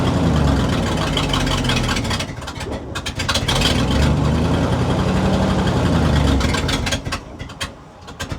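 A fire truck with no working brakes, sitting in first gear, runs its engine with a steady low rumble that swells slightly as throttle is applied, then dips and sputters near the end.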